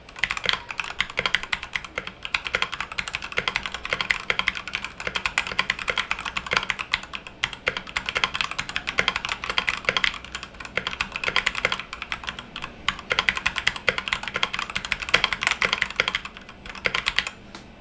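Steady, fast typing on a Red Dragon Fizz mechanical keyboard with fairly stiff linear switches, giving a dense run of close, crisp key clacks that continues without pause for the whole stretch, with no voice over it.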